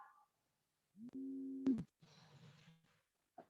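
Electronic phone call alert tones cut into an online video meeting, a sustained steady beep around one second long followed by a short sharp blip and then a noisy buzzing stretch, with brief faint sounds before and after and no talking.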